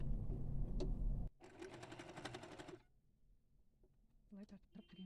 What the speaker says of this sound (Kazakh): Енді шетін айналдырып тігіп шығамыз.